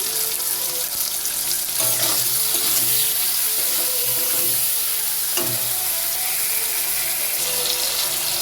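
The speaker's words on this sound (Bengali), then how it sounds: "টমেটো ভাজার মধ্যে নুন দিয়ে দিচ্ছি।" Chopped tomatoes frying in a pan with salt for a vegetable curry, a steady close sizzle with faint clinks of a utensil against the pan, and no talking.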